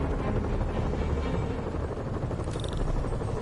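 Helicopter rotor noise from the Spider-Man video game fills the scene as a dense, steady, loud whir with a constant rumble, and a brief higher tone appears near the end.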